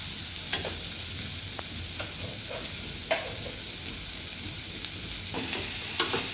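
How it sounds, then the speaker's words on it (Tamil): Beans poriyal with grated coconut stirred in a pan, a steady soft sizzle carrying scattered scraping clicks of a spatula at an irregular pace, close and moderately quiet, with no talking. "தேங்காய் போட்டு ஒரு 5 நிமிஷம் கலர்னா போதும்"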